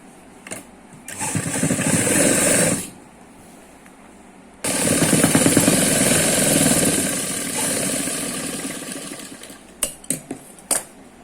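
Electric sewing machine running in bursts while stitching a folded hem on cloth for ladies' narrow palazzo pants; two loud sustained whirring runs separated by a pause, ending with a few short clicks.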